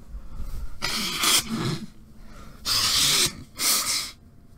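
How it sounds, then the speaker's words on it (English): Someone blows their nose up close, with forceful, noisy bursts of air in two pairs separated by a short pause. "I'm going to blow my nose real fast, so give me a second."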